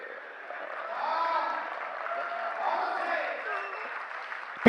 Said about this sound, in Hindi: पीछे वालों की तालियां कम आ रही है साहब